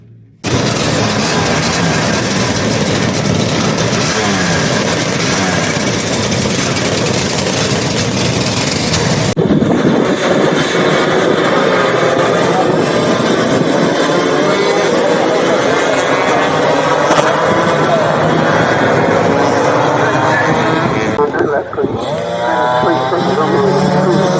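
Loud, continuous buzzing of small scooter engines revving and racing past on a wet track with puddles, with a shifting whine and voices mixed into the busy outdoor noise.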